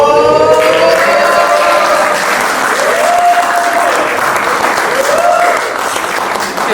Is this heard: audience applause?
yes